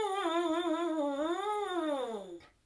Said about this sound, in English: And when I blow the mouthpiece on its own, it makes a very funny sound like this.